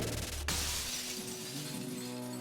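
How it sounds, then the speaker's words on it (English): A glass bottle shatters in a bar in the Metal Gear Solid video game, one sharp crash followed by a bright tinkling spray of shards that fades under a low steady game hum. "Every bottle in the bar can be broken."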